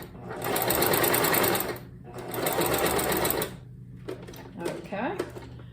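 A home sewing machine stitches quilt fabric in two long bursts of rapid mechanical chatter, then stops and starts in short runs with small clicks and handling noises, close and loud.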